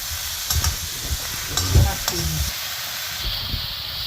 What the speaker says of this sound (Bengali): লাউটাকে একটু কষিয়ে নিয়েছি নুন দিয়েছি